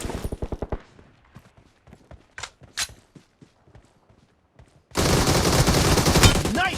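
Rapid automatic gunfire in the mobile shooter BGMI from an AKM or Groza rifle: a fast burst of loud shots, then scattered single shots and clicks, and finally a dense, steady roar of noise.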